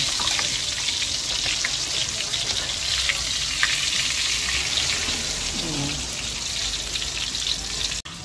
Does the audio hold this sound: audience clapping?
no